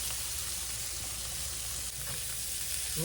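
Green beans cook in a pan with a soft, steady sizzle and hiss that stays even and fairly faint throughout.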